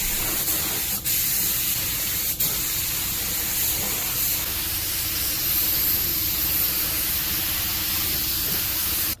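A spray gun lays base coat paint onto a car body with a steady, close, continuous hiss, broken by two brief pauses early on.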